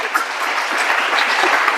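Congregation clapping and cheering in a church service, a dense continuous wash of applause with crowd voices mixed in, steady and loud throughout.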